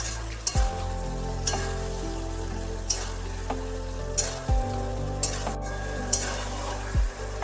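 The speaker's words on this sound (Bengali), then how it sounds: "সর্ষে বাটা ওলকোড়া বা ওল ডাঁটার সাথে ভালোভাবে মিশিয়ে দিতে হবে।" Black mustard paste stirred by spoon into elephant foot yam stalks cooking with hilsa fish head in a frying pan, a steady close sizzle broken by several sharp scrapes and clinks of the spoon against the pan.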